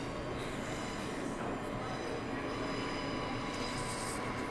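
A Transperth B-series electric train at Showgrounds station on the Ellenbrook line, a loud continuous rumble of wheels and motors with a faint high squeal running over the top, close by and without speech.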